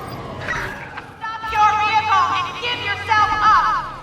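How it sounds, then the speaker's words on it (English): A police car siren in the video game Watch Dogs 2 wails in a rapid warbling yelp, mixed under someone talking over it. "that's a police car coming my way"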